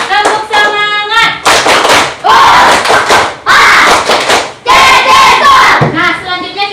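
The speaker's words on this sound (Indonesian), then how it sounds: "Tepuk semangat." Primary school class of children in an Indonesian classroom doing a rhythmic clapping chant, loud and close, with bursts of shouted voices and hand claps in short energetic phrases.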